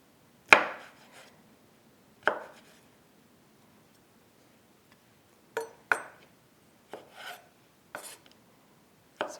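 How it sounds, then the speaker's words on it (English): A knife slices thinly through meat on a cutting board while preparing German Fleischsalat, giving sharp isolated cuts spaced a second or two apart with a quiet pause midway, close and fairly clear. "I will put them in half and slice them quite thinly"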